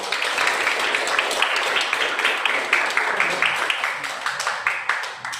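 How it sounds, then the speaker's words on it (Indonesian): A classroom of students applauds together during a physics teaching-practice lesson, a busy stretch of clapping that settles into a rhythmic, pulsing pattern toward the end. "Tepuk tangan untuk kita semua"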